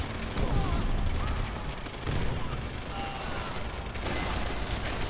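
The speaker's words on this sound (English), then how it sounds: "And there's a grenade, and I'm about to die." Dense battlefield din in World at War, with rumbling explosions, including a grenade blast, layered under rapid overlapping gunfire, loud and continuous, with a voice talking over it.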